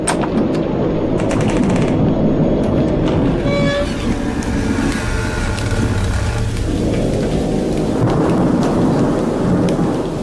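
A violent night thunderstorm in a horror film, with heavy rain pouring steadily throughout and loud, rolling thunder cracks booming close by, no voices heard.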